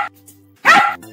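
In an animated educational cartoon, a dog lets out a single loud, short bark.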